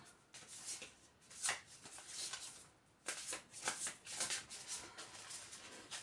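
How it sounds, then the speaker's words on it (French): Large, oversized playing cards being shuffled by hand, a run of papery riffles and rustling bursts with brief pauses between them, close and fairly soft, with no talking. "Il n'est vraiment pas évident à brasser. Parce que c'est des grandes cartes."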